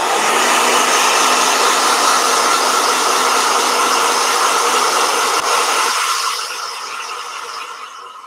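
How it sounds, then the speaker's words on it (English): A handheld hair blow dryer runs with a loud, steady whirring roar and a high whine. Near the end it shifts to a lower setting or winds down and grows quieter, with no voices. "Blow dryer!"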